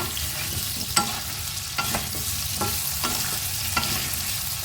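Potatoes and taro (arbi) fry in a pan with a soft continuous sizzle, broken by about five distinct scraping strokes of a spatula as they are stirred.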